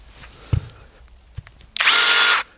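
A cordless power saw whirs loudly through apple wood for about a half-second burst near the end, after a few faint knocks and handling noises.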